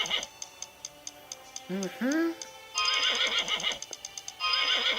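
A horse whinnies loudly once, followed by rhythmic clip-clop hoofbeats and ticking game sounds, all close and clear.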